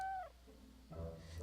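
A cat in the Hero-U video game meows while being petted: a short, clear, falling meow at the start, then a softer lower mewing cry near the end, fairly quiet overall.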